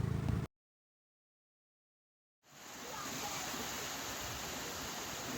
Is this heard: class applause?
no